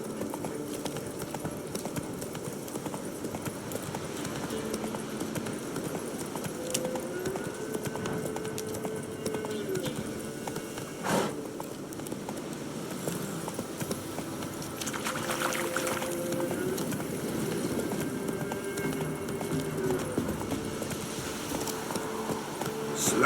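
Roach, Geralt's horse in The Witcher 3, gallops along with a steady rhythmic clip-clop of hooves, joined by a low musical score and a snort or two partway through.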